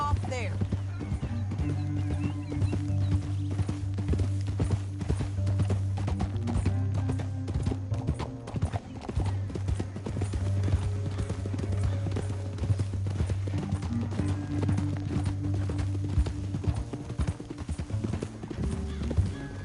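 A horse gallops in the Western video game Red Dead Redemption 2, a steady rhythmic clip-clop of hoofbeats running under a low drone and game voices.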